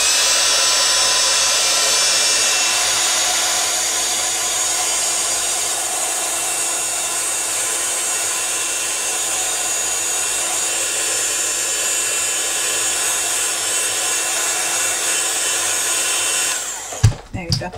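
A hair dryer blows steadily while drying wet ink on watercolour card, a loud continuous whooshing roar held at close range that cuts off with a clatter near the end.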